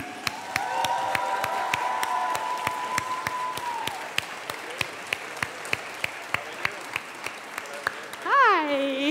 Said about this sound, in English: join me in a round of applause for